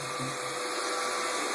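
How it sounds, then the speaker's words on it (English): An iRobot Roomba robot vacuum undocks and calibrates, giving a faint, steady whirring hum with a brief soft bump near the start. "Here is the Roomba. Undocks itself, does a little calibration,"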